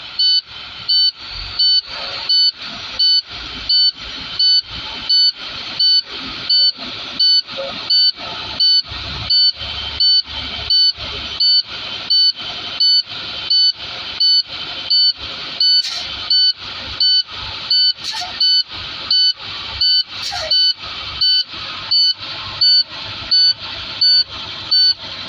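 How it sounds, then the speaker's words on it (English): A Class A truck's warning alarm buzzes right after the engine starts, a loud, even beep repeating about every second without a break, with a faint engine hum underneath. "To get rid of the alarm so that you can hear me better, I will accelerate no more than 1500 RPM."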